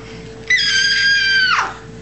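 A person vocally imitates a bat with a single shrill, high-pitched squeak, held for about a second and then sliding down, loud and close against a quiet background hum.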